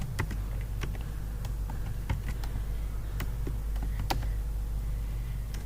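Typing code on a computer keyboard during a NumPy array tutorial, heard as scattered light key clicks in an irregular rhythm over a steady low background hum.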